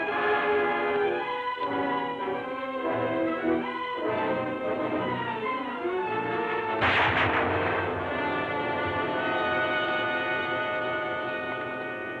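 A single sharp gunshot cracks out midway through a full orchestral score in an old television drama, the music carrying on steadily around it.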